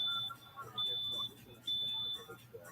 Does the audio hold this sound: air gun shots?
no